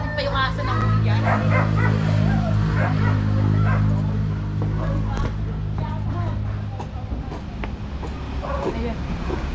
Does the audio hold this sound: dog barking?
yes